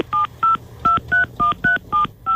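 Eight touch-tone beeps from a telephone being dialed to place a call, each short, loud and close, in an uneven rhythm with brief gaps between keypresses and no voices.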